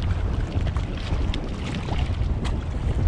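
Strong wind buffets the microphone on a nasty day at Milwaukee Harbor on Lake Michigan, a constant rough roar with gusty surges around a kayak on the water; no voices.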